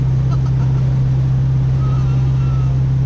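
A manual-transmission car's engine drones steadily in fourth gear, a loud continuous low hum that fills the cabin throughout, with no clear rise in pitch.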